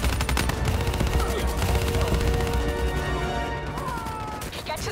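Sustained machine-gun cover fire in the Call of Duty Black Ops 3 shooter, a dense, loud stream of rapid shots with crashing impacts, slightly easing toward the end, with faint voices underneath.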